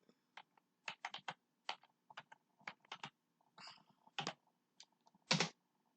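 Quiet, close typing on a computer keyboard enters a username and password, in irregular short bursts of keystrokes with pauses and a couple of louder key presses.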